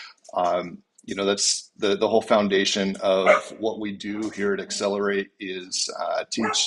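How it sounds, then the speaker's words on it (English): Dogs bark in the background under a person talking steadily in the foreground, the barks short and intermittent. "sorry about my dogs, they are animals."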